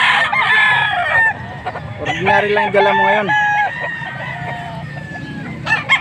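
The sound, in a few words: roosters crowing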